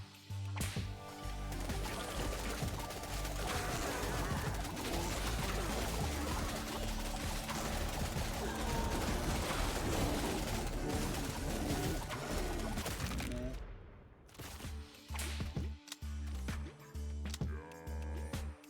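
Seagulls call amid dense video game audio during a zombie-horde wave defence, their cries mixed into loud, busy game sound that drops away briefly before choppy effects return.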